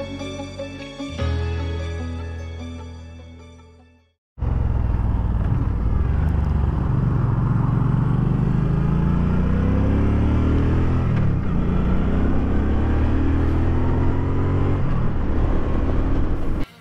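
A motorcycle ride along a road: after a short stretch of music, a continuous engine drone with wind roar rises and holds steady and close, with subtle shifts in pitch as the bike cruises.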